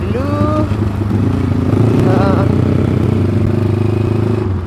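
A motorcycle engine rumbles steadily at close range, its low drone holding throughout with a brief rising whine partway through.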